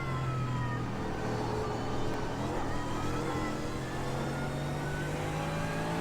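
Mercedes race car engine screaming around the Nordschleife in the iRacing sim, a steady loud high-revving drone with slowly shifting pitch, held throughout with no talk.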